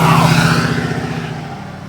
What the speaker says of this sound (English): we got big Max Cushion Gang trucks coming through